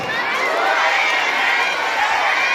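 Wedding guests cheer and shout for the newlyweds, a dense, loud crowd roar of voices and clapping sustained evenly throughout.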